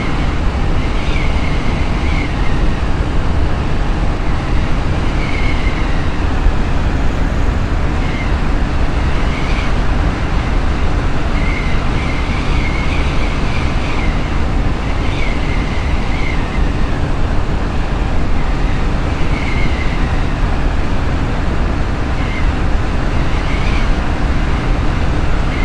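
A steady airplane engine drone from the FSX flight simulator holds at a loud, even level throughout, with a faint recurring whine riding on top and no voices.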